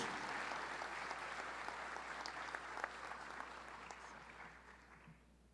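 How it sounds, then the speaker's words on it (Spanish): An academic audience applauds in welcome of Dr. Franklin Knight of Johns Hopkins University, a lecturer. Steady, dense clapping holds for about five seconds, then quickly dies away. "Recibamos con un fuerte aplauso al doctor Franklin Knight"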